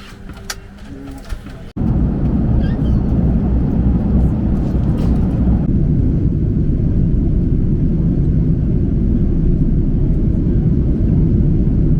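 Steady, loud low-frequency engine rumble of an airliner while passengers board a flight to San Diego, continuous and unbroken after a brief quieter opening.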